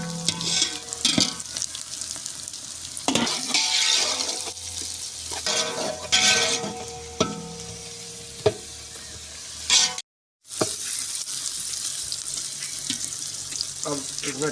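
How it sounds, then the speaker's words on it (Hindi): Green chillies going into a pan and being stirred while they fry, village-style home cooking, with a steady sizzle and scraping stir strokes close by; the frying noise is continuous and fairly loud, broken by a brief silent gap near the end. "सब्ज मिर्च इसमें डालेंगे आप"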